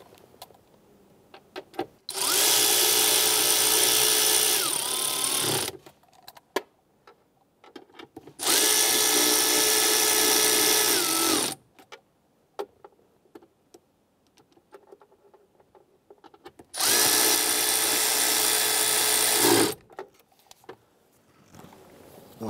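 A power driver snugs down screws in a Chrysler 300 center console in three long, loud whirring bursts of a few seconds each, separated by quiet pauses with small handling clicks.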